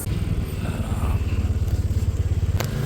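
Motorcycle engine putting along a road on Batanes, a rapid pulsing low chug close by, steady with slight surges, ending in a short clatter.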